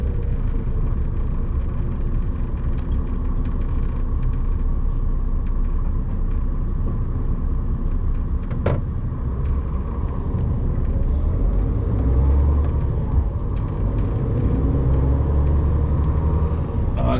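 A Class 2 truck driving on the road heard from the cab: steady low engine rumble and road noise throughout, with a brief sharp hiss midway and someone talking over it.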